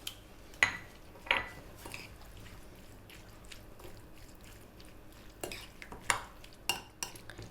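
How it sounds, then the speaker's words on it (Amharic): A spoon stirs mayonnaise into potato salad in a bowl, giving soft, wet squelching and several sharp clinks of utensil against the bowl, close and fairly quiet, with no talking. "ከዛ ማዮኔዝ እንጨምራለን። ከዛ እሱን ምን እናደርጋለን? እንደባልቀዋለን፣ ሚክስ እናደርጋለን።"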